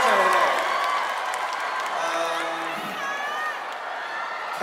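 A concert crowd cheers and claps at a show at the Hong Kong Coliseum, a loud sustained roar with whoops that stays steady throughout, with a voice audible within the din.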